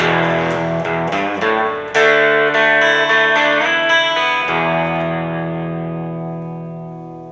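A bright electric guitar strums the riff of a song, chiming chords with some effects, a few quick changes, then a final chord left ringing and slowly fading.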